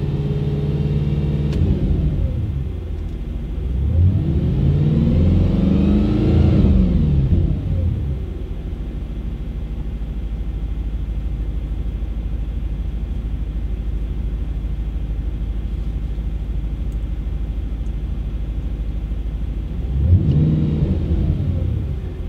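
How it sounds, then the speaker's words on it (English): An Audi B7 RS4 engine idling loudly with a deep steady rumble, revved up and down in two long swelling pulls early on and one more later while warming up. "That's me giving some gas just to warm her up a bit."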